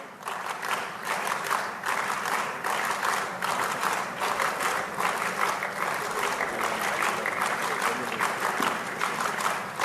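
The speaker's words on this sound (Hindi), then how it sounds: "जोरदार तालियां" Loud, sustained applause from the crowd at the Mission Green Gwalior Clean award ceremony honoring local heroes, with dense, steady clapping and a little crowd noise underneath.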